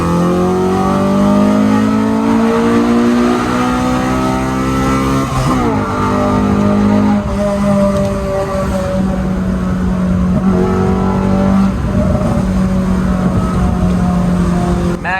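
A Honda K20 Type R race car engine revs hard and loud, close by, its pitch climbing in repeated pulls with brief dips between shifts and no talking over it.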